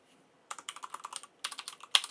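Fingers tap out a terminal command on a computer keyboard under Manjaro Linux, giving two quick close bursts of clicky keystrokes separated by a short pause, with a sharp final key press.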